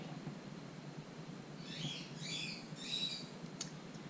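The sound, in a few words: pet bird calling in the morning at home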